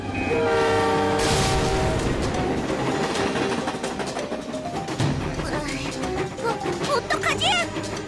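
A train passes with a loud horn blast and rumbling rail noise, followed by shrill squealing and scattered voices.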